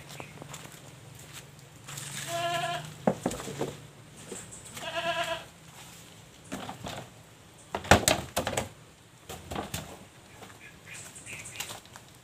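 Farm goats let out two wavering bleats a few seconds apart, moderately close, amid rustling and soft background noise.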